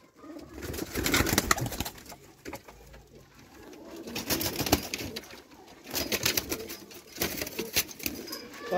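Cross-bred pigeon pairs coo softly and repeatedly at close range, with occasional wing flaps and rustling among the birds.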